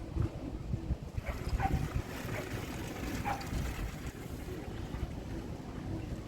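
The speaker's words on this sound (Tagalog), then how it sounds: "Malakas ang hangin, sumasalubong sa atin." Strong wind buffets the microphone in a continuous low rumble, with a faint engine drone underneath.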